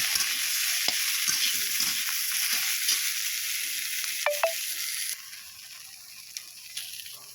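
Eggplant, potato and mixed vegetables stir-frying in a pan, a continuous close hiss of sizzling oil with scattered scrapes and clicks of stirring, the sizzle dropping noticeably quieter partway through; no voices.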